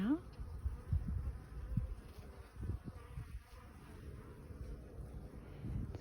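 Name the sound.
honeybee foragers flying in and out of beehive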